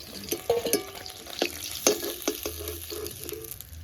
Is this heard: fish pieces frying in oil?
yes